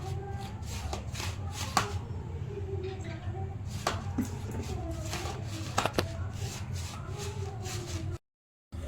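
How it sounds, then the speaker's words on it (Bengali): Hands rubbing white oil into semolina and flour in a bowl, working the dough mix for Bengali chhanashital sweets; a steady close shuffling, gritty rub with small clicks, running continuously with faint background hum. "তো প্রথমে এই যে সুজি এবং ময়দা নিচ্ছি, এগুলোর মধ্যে একটু সাদা তেল দিয়ে ময়াম দিয়ে নিচ্ছি।"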